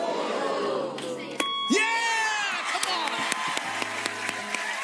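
A studio audience on The Tonight Show bursts into applause, cheers and laughter during an interview with an actor, a full crowd roar with talking voices running over it.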